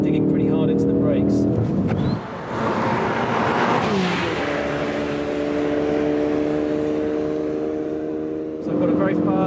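A Ford Focus RS engine drones at high revs on a race track, a steady loud tone that dips briefly as the car brakes hard and then climbs again, with the note returning near the end.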